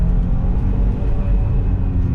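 A classic Audi from the Audi Tradition collection pulls hard through second gear on a road in the south of France, its engine a loud, steady, close low rumble, with no talk.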